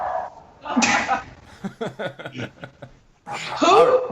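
One person sneezes loudly and close by. Talk and chuckling come before and after it in a podcast conversation.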